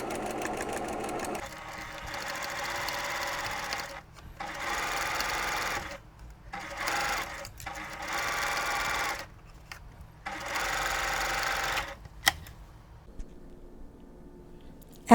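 A sewing machine stitches a Christmas tree quilt block, running in several steady bursts separated by short pauses, fairly close and clear with no talking.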